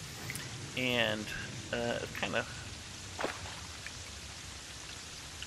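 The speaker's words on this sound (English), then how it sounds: "It's raining out." Rain in the video game Terraria hisses in a steady, soft patter throughout, with someone talking briefly over it.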